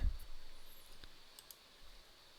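Computer mouse clicking in a quiet room while working in the AWS console, a few sharp isolated clicks spaced out over soft background hiss.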